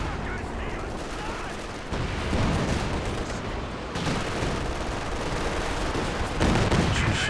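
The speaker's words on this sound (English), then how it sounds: "Lots of fire targeting this area." Dense gunfire and artillery from a Company of Heroes 2 2v2 match, with overlapping machine-gun bursts and heavy explosions rolling continuously, loud and busy throughout with a sharper burst near the end.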